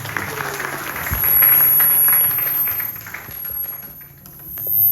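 Audience applause at the inauguration of a Hindu priest as NYC Dharmacharya at a mandir, a sustained patter of clapping that swells and fades over several seconds with a faint murmur beneath.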